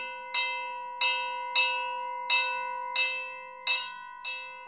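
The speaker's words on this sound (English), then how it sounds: "train bell, which would go off when the train is departing." Sound-effect train bell plate, a big thick steel plate set on an amplifying box, struck seven times at an even, steady pace, each strike a bright ringing clang that decays before the next, with no talk.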